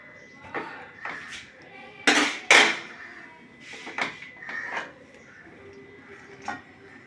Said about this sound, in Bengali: এই ভাতটা দিয়ে দিচ্ছি ভাতটা ঢেলে দিচ্ছি